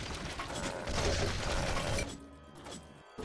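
Mechanical grinding and clanking of a moving elevator in the platform game Zombotron 2 Time Machine, steady for about two seconds and then thinning into sparse ratcheting clicks and a final clunk.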